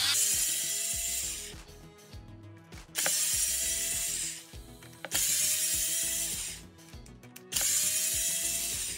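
Skid plate flathead screws on a Traxxas Slash RC truck being backed out with a 2.5 driver, giving four bursts of quick ratcheting clicks with short pauses between them, close and clear.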